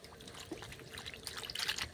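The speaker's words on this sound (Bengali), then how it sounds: "এর মধ্যে আবারও একটু ঠান্ডা জল দিয়ে দেব" Cold water poured over hot boiled coconut husk pieces, a soft close trickle and splash that grows a little louder near the end, heard alone.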